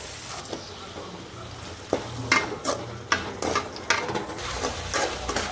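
Onions browning with ginger garlic paste in a pan, stirred with a utensil: repeated scraping strokes over a steady low sizzle, close and fairly quiet, with no talking.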